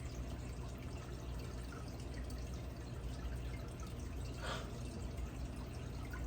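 Cardinal tetras poured from a bag through a net held over a bucket, a steady close trickle and splash of water running throughout with one brief brighter splash near the end.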